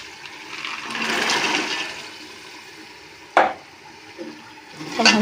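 Chickpeas tipped into fried tomatoes in a cooking pan: a rushing pour followed by a sharp clatter and scraping stirs, with light sizzling between.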